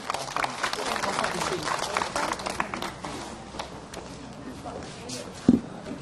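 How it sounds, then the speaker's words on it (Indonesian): An audience at an Islamic religious talk claps for a preacher, a broad wash of applause that thins out midway, with a sharp knock or tap near the end. "Tepuk tangan buat Ustadz Azhari"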